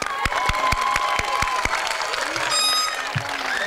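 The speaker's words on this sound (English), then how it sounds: "Let's give them a round of applause" A graduation audience applauds faculty and staff, broad clapping with a few sharp loud claps standing out near the front, plus some high whistling or cheering tones later on.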